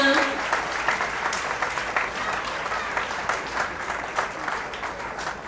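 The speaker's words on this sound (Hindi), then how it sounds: "जोरदार तालियां भाइयों बहनों," Steady audience applause fills an awards night ceremony hall, dense and sustained throughout, with a brief voice heard at the start over the clapping.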